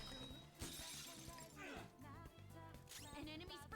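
Frozen enemy shattering from a single strike in Persona 5 Royal, a bright glassy crash with scattered tinkling fragments amid game music and effects, overlapping speech.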